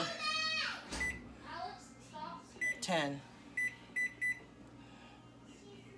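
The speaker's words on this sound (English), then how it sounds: "I'm going to set the timer" An oven timer being set in a home kitchen while baking cookies, giving several short, bright electronic beeps in separate bursts, heard near and clear after an adult speaks and between moments of talk.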